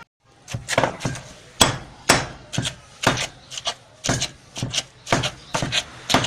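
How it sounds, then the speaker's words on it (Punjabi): Plant material being chopped for kushta chandi: a run of sharp, woody blade strikes on a board, close and loud, falling in an irregular rhythm of roughly two per second. "ਕਾਫੀ ਦੇਰ ਦਾ ਅਸੀਂ ਕਟਾਈ ਕਰ ਰਹੇ ਹਾਂ ਇਹਨੂੰ"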